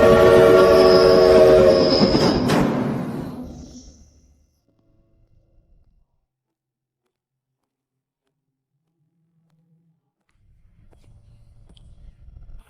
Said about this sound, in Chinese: 复兴号重型蒸汽火车，历经3年，跨越千山万水